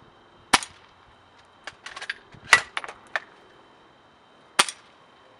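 An airsoft Mauser K98k shell-ejecting gas rifle fires a sharp, close crack, followed by scattered light clicks and metallic clatter of handling and a shell, then another single crisp shot, with quiet gaps between.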